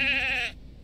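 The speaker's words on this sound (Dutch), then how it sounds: "Nou, een schaap dat maakt geluid." A lone sheep gives a single loud, quavering bleat lasting about half a second, close by, then quiet low background noise.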